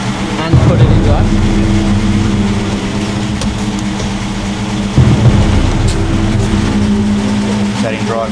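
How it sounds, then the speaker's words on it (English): Nissan GQ Patrol 4x4 engine running steadily near the microphone as it is shifted into drive, a low continuous rumble with slight surges, while people talk over it. "Put it in deep drive. And put it in drive."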